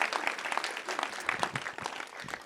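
An audience claps at a live storytelling show in Eagle Valley, a moderate spattering of applause that stays fairly quiet and thins toward the end.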